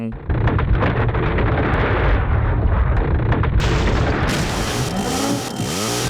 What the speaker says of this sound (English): so I gotta shoot him in the head.